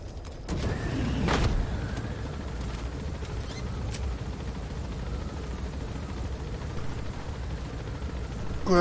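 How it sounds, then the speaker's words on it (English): A helicopter in Metal Gear Solid V gives off a low, continuous rotor rumble that swells early on, then holds steady, with a few mechanical clanks and creaks. "Looks like there's another helicopter in the air"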